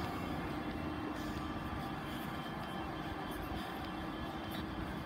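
Low, continuous rumble of a Greater Anglia train at Ipswich station, a broad steady rolling drone with faint hiss above, heard alone without voices.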